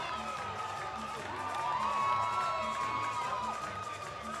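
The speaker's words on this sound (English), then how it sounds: "to the thunderous roar of the sold-out crowd here at Monona Terrace" Sold-out crowd at Monona Terrace roaring and cheering after a fight win by chokehold, a dense continuous roar that swells in the middle and eases slightly, with shrill whistles above it.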